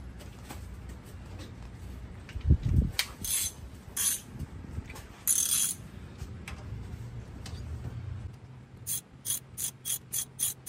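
A ratchet and socket works on an engine's crankshaft bolt while measuring for pushrods, giving soft mechanical clicks and clanks with a faster run of even ratchet clicks near the end, close and moderately loud with no talk.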